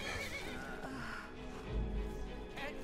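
A horse in the video game Skyrim gives a loud, drawn-out neigh, with some hoof clatter underneath and a faint voice in the background.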